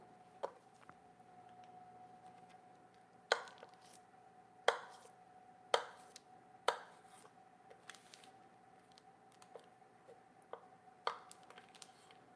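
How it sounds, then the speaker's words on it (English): A knife chops through a stick of butter on a cutting board in a home kitchen during holiday side-dish prep, giving several sharp, close knocks spaced a second or so apart over a steady background hum. "we're gonna chop up the butter"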